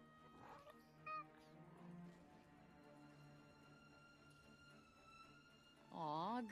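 A cat in the Forspoken video game meows, with a short mew near the start and a louder, drawn-out wavering meow at the end, over steady background game music.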